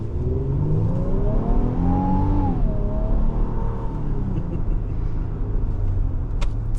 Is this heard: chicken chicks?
no